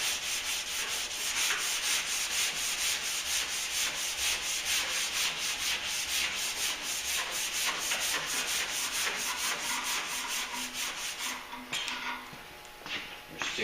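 Steady, continuous abrasive rubbing of a sanding block over body filler on a Duramax truck panel repair, loud and close with a constant scratchy rhythm that eases slightly near the end.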